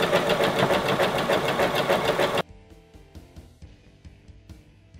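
A sewing machine zigzag-stitches elastic onto a lingerie waistband, running with a fast, steady rhythmic chatter for over two seconds, then stopping abruptly and leaving soft mechanical ticks.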